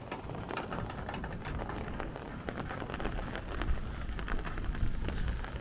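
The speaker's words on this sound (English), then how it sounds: "Another rumble with thunder." Low thunder rumbles beneath a heavy downpour during a squall-line thunderstorm in Brooklyn, New York City, with dense, steady rain spatter filling the scene throughout.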